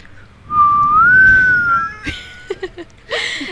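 A voice imitates an eerie whistle: one long, wavering tone that rises and slowly falls, followed by a few brief spoken sounds.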